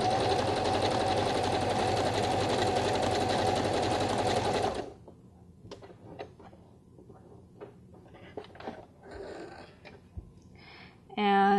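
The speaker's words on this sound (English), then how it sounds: "So I'm doing a just a basic straight stretch stitch." Sewing machine running a basic straight stretch stitch on a tank top romper, a loud steady whirring hum for several seconds that stops abruptly, followed by faint handling clicks and rustles, with a brief restart at the end.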